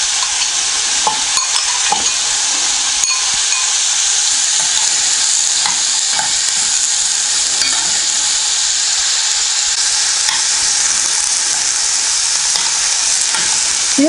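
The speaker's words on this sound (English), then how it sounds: "And I can put my sweet peppers and carrots in at the same time." Sweet peppers, carrots and onions frying in a pan for a lentil stew, giving a loud, steady hiss and sizzle throughout, dotted with small crackles and the odd stirring clink, close and with no talking.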